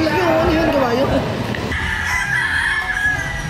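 Rooster crowing loudly and close at a crowded hobby expo hall, one long drawn-out call over steady crowd murmur, followed by fainter bird and crowd noise.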